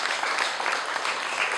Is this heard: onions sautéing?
no